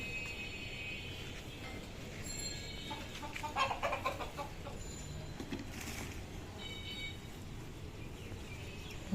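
Hens cluck in short repeated calls at feeding time in a backyard flock, fairly close, over a steady low background rumble.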